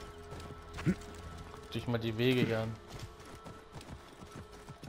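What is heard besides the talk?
horse galloping in video game Assassin's Creed Origins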